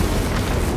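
A melt bomb detonates in the Warhammer 40k game Space Marine 2: a loud, dense roar of explosive rumble that fills the whole short moment, with no voices over it.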